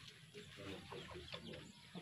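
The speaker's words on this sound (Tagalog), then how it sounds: "Marami akong manok." Backyard chickens cluck softly in a rural garden plot, a few short irregular calls at moderate distance over faint ambient noise.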